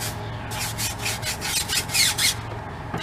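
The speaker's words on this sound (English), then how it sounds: "Hard bristle brush to get the tires clean." A hard bristle brush scrubs the tires of a BMW X5 M during a rinseless wheel cleaning, giving rapid, close, raspy back-and-forth strokes in an even rhythm with no talking.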